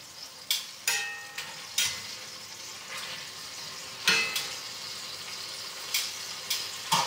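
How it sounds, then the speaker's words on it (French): Lamb pieces sear in a hot pan with a steady sizzle, broken by several sharp bursts of crackling and spatter as the meat is stirred and turned, each burst loud then fading back into the frying hiss. "Surveillez vos morceaux de viande, qu'ils soient bien saisis"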